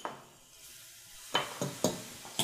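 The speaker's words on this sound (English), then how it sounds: "You can hear that sizzling." Grated fresh ginger and chopped garlic hit a hot pan, giving a faint hiss followed by several sharp scraping stirs and clinks of a utensil against the cookware.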